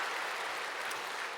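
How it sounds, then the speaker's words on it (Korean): A church congregation at Noksan Church gives a brief round of applause during a Sunday worship service, steady dense clapping filling the room at moderate level without any voices over it. "하나님께 다시 한번 감사와 영광의 박수를 드리겠습니다."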